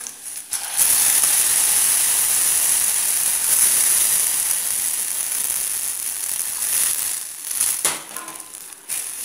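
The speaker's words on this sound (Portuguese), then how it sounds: "agora eu vou estar acrescentando aqui o feijão." Beans poured into a pan of fried garlic set off a loud, steady sizzle and hiss that runs almost the whole time, with a short crackling burst near the start.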